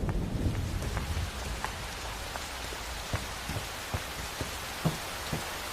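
Steady rain falling, a dense hiss with scattered louder drops tapping nearby and a low rumble early on.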